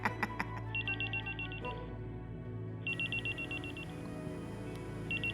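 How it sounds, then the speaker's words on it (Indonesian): A telephone rings in two bursts of rapid electronic trills, pausing between them, then a third ring begins; a steady low hum sits underneath. "Si bos telepon gua."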